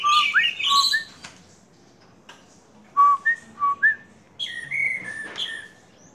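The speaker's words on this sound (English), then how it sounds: "I'm talking to the birds." Several caged birds in a hotel garden near Sanur Beach chirp and tweet in short bright bursts, trading calls with a person whistling to them nearby, with quiet gaps between phrases.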